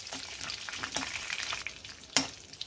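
Cashews and raisins frying in ghee for sweet pongal, a soft steady sizzle with a few sharper crackles and stirring scrapes, close and fairly quiet, no voices.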